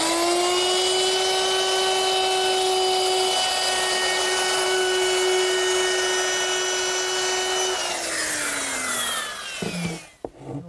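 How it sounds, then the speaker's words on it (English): A router fitted with a 3/8 inch round over bit cuts a wood edge, holding a loud, steady high whine for several seconds before the motor pitch falls away as it spins down, ending in a few knocks. "To make that round over, I'm using a 3/8 inch radius round over bit"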